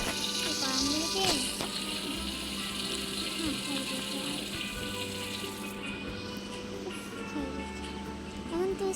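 Water running steadily from a tap into a sink during teeth brushing, a constant close splash and rush with some faint scrubbing and clinks, while a voice talks briefly over it.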